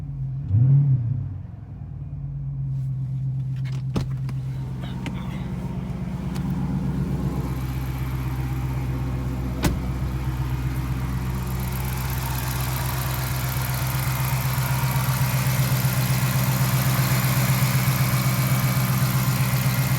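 A Hemi-powered Chrysler 300 idles with a steady low rumble, giving a brief rev up and settling back into a smooth, constant idle heard close up with no talking.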